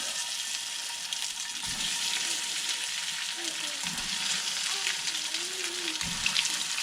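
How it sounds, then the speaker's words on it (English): Salmon burger patties hit a piping-hot skillet and fry with a steady, loud hiss that holds throughout, with a few low thumps and scrapes beneath it. "This is going to sizzle, so prepare yourself."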